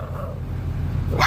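Puppies on an Amish farm yap and bark in a quick, continuous cluster, close by, with steady low rumbling underneath and a sharper yelp near the end.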